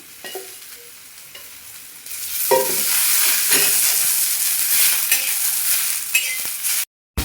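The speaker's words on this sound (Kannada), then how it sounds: "ನಾನು ಜೀರಿಗೆ ಹಾಕಿ ಹುರ್ಕೊತಾ ಇದ್ದೀನಿ" Cumin seeds fry in hot oil in a pan, a steady loud sizzle swelling after a couple of seconds with occasional stirring clinks, then cutting off abruptly near the end.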